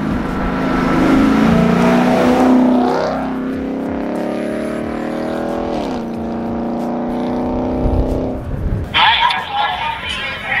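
A powerful V8 Ford Mustang roars and revs as it drives past, rising and falling in pitch, with a changing tone near the end.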